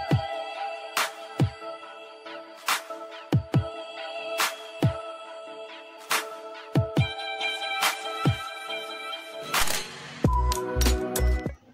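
A short musical channel intro jingle plays alone, built from sharp plucked or struck notes in a bouncing rhythm over sustained tones, ending in a busier burst with deep thumping beats.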